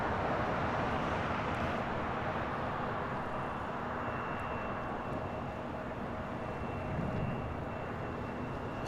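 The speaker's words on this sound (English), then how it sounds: "We have two back-to-back United 757 arrivals." A United Boeing 757-300 jet arriving at LAX from Chicago O'Hare produces a continuous, loud engine roar that stays broad and steady throughout with no voices over it.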